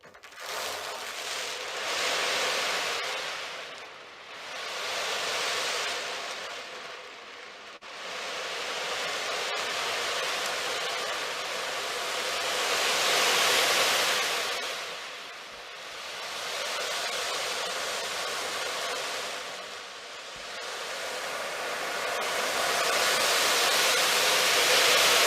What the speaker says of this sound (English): This is an ocean drum.